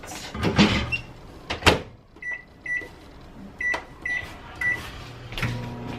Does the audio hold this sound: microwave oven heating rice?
yes